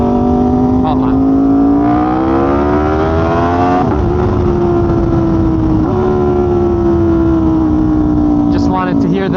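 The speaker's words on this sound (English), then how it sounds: "Wanted to hear the RSV4 Symphony a little bit" Aprilia RSV4 motorcycle engine revving up and down, a loud close-up howl with rising and falling pitch sweeps and a brief throttle blip near the end, a voice briefly heard over it.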